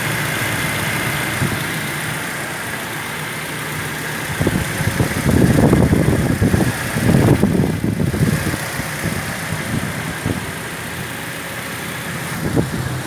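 A 2006 Toyota Innova 2.0L CNG engine idles nearby in a steady low rumble that swells a little rougher midway, with no talking.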